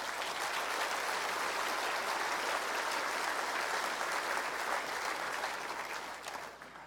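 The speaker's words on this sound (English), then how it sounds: "one last round of applause for all of them" Sustained audience applause at the New Brunswick State of the Province Address, a dense, steady clapping from a large crowd that holds evenly for several seconds before tapering slightly at the end.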